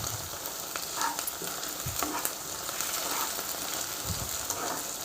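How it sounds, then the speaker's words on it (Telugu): Ginger paste frying in a pan, a steady soft sizzle with occasional spoon scrapes and stirring knocks, fairly quiet and close, with no talking. "ఇది అల్లం పేస్ట్ మంచిగా పచ్చివాసన పోయేదాకా ఫ్రై అవ్వాలండి"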